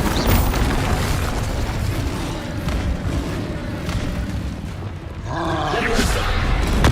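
A fire spell blast from Hogwarts Legacy bursts with a loud, sustained whooshing roar, rising again toward the end with a fresh surge and brief crackling tones.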